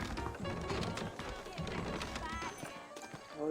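Horses in the game Red Dead Redemption move with soft, steady clip-clop hoofbeats, faint and close, over a low ambient background, with a voice briefly talking over them.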